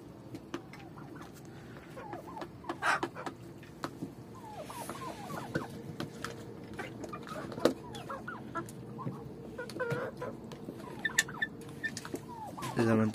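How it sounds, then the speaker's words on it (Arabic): A Wadi breed hen clucks repeatedly at moderate distance, in soft irregular bursts over a faint background hum. "طبعا شايفين فرخه الوادي."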